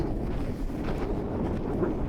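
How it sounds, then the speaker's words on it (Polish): Steady wind in Iceland buffets the microphone with a low, rumbling roar that continues throughout without any voices. "Zerwał się wiatr."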